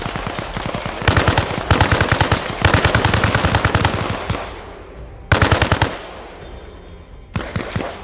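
Automatic gunfire from another player in the Arma Reforger video game, loud bursts of rapid shots with short pauses between them and a fading echo, no talk over it.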